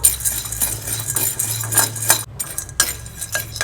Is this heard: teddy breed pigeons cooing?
no